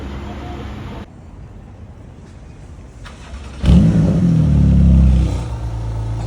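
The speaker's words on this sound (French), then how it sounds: "Oh, le bruit des valves qui se met direct" A Rolls-Royce Dawn Mansory revs on a Paris street, its exhaust valves opening to a loud, deep, close roar that swells for a couple of seconds after quieter traffic rumble and a voice.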